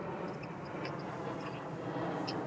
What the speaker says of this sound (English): And the drone is here right with you.